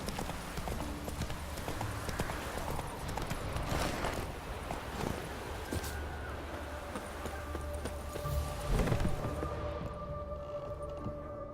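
Hooves in the video game Witcher 3 clip-clop in a quick, continuous running rhythm, close and fairly loud, with faint game music and ambience underneath.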